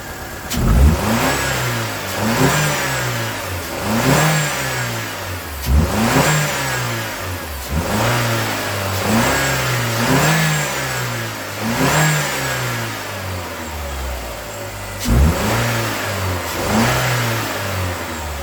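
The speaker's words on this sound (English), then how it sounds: "So I'm gonna rev it up, and if it continues to misfire down low and clears up at a higher RPM" A car engine with an arcing ignition fault is revved repeatedly from low RPM, giving loud, rhythmic rising-and-falling revs about every two seconds with a rough, stumbling misfire at the low end, recorded up close.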